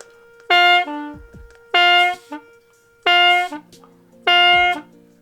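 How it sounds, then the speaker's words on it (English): A hulusi plays four sustained, reedy notes, each cut off with an audible breathy rush of air at the end, separated by short pauses. "You're gonna hear that weird sound or weird breathing sound at the end, like this."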